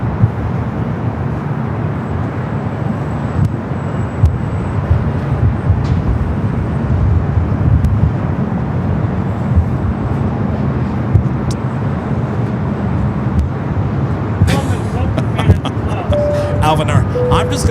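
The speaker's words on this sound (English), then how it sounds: "Fiji arriving on the south side, flight 810, coming up from Nandi." Fiji Airways flight 810, an airliner arriving at LAX from Nadi on the south side, gives a steady, broad jet roar that fills the whole stretch, with a few sharper clicks and a thin tone near the end.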